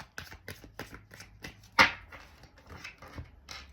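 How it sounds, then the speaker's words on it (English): A deck of tarot cards being cut and handled during a reading, giving a quick series of close soft flicks and shuffling taps with one sharper slap midway, and no talk. "I'm going to cut the deck."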